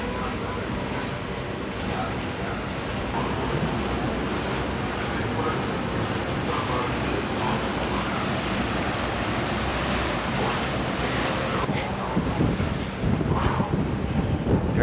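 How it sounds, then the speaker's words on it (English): Strong wind buffets the microphone on a ferry deck out on the ocean, a loud, continuous roaring rumble mixed with engine and sea wash, gusting harder toward the end. "there's that wind again"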